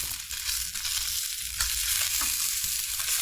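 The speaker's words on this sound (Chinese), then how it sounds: "那我们鲑鱼在煎的时候，其实大火就可以了，把所有的面煎成漂亮的金黄色" Salmon fillet sears in a pan over high heat, giving a loud, continuous close sizzle with a few sharper spits and crackles and no voices.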